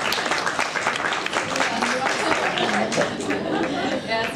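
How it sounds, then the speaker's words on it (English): An audience applauds at a fashion week event, clapping mixed with crowd chatter and some voices in the room, lively and fairly close throughout. "Round of applause, everybody."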